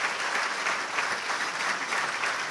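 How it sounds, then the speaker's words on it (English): A breakfast audience gives steady, dense applause for the All Blacks rugby coach, continuous clapping from many hands filling the room at close range without pause. "if I could have a big round of applause for Graham Henry, coach of the All Blacks, Tri-Nations champions"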